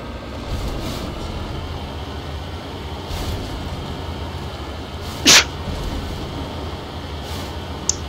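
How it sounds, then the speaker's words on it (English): One sharp, loud sneeze bursts out close to the microphone over steady background noise from a game, followed later by a faint brief click. "sorry I didn't catch the mute on that first sneeze right there"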